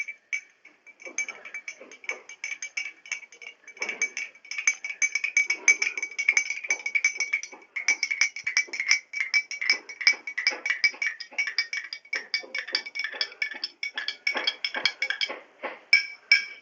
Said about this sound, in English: Let me stir it.